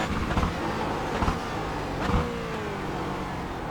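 Engine of a Porsche Cayman GT4 in iRacing at Sonoma, a steady mid-pitched drone with a couple of brief revving surges as it shifts up, continuous and fairly loud throughout.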